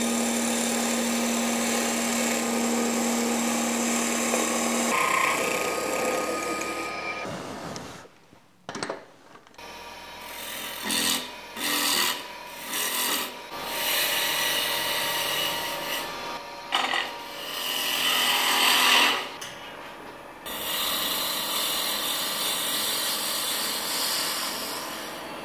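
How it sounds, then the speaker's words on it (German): Wood lathe turning a blank while a chisel cuts a dovetail recess: steady whirring rasp of the spinning wood, broken midway by bursts of scraping cuts, then the continuous whir returns, close and loud. "Die Schwalbenschwanzverbindung, die mache ich mit dem Meißel."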